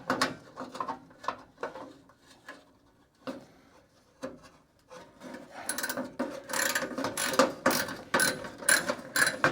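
A hand ratchet clicks in repeated bursts of quick pawl ratchets while working on a Crew Cab Charger restoration, close and fairly loud, with metallic rubbing and tool handling between strokes.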